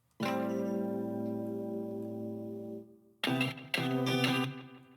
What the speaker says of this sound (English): And then chorus will do nicely to kind of widen up the sound.